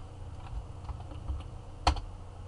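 A short run of light keystrokes on a computer keyboard, ending in one sharper, louder key press, heard close and alone while entering a login for a Cisco RADIUS setup.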